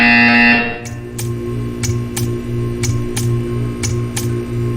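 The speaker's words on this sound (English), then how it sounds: "You will hear a buzzer." A loud electronic buzzer in Portal 2 opens the clip and cuts off, followed by a steady low hum with a series of sharp clicks at regular intervals.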